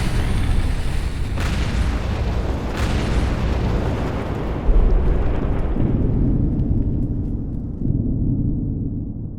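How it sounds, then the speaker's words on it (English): A loud, distant explosion rips through an amusement park, a deep rumbling boom that rolls on for several seconds with a sharp crack partway through, fading into a low heavy roar with no voices. "a loud explosion rips through the entire amusement park"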